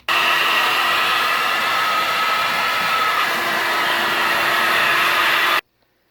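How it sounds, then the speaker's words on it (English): A hair dryer blows with a steady, loud whooshing hum for several seconds, then cuts off abruptly. "hair dryer."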